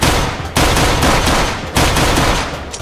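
Rapid gunfire from a zombie shooter video game, loud and continuous bursts of shots broken by two brief pauses, with no talking.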